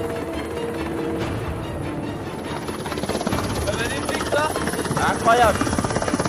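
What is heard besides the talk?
helicopter in flight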